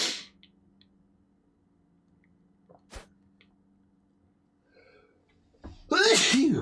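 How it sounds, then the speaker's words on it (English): One person sneezes loudly near the end, a sharp burst after a short inhale, following a long quiet stretch with a couple of brief clicks and thumps. "And sneeze. Sneezes and 5s."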